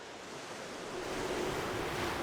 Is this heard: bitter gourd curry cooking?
no